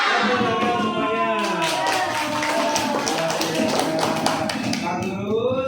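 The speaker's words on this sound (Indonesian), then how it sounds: "Tepuk semuanya." Class of children clapping together in a classroom, a dense run of loud rhythmic claps that fills the whole stretch, with some young voices mixed in.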